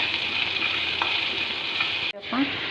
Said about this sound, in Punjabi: ਆਪਾਂ ਇੱਥੇ ਅਦਰਕ ਲਸਣ ਦਾ ਪੇਸਟ ਪਾਵਾਂਗੇ ਇਸ ਨੂੰ ਭੁੰਨ ਲਵਾਂਗੇ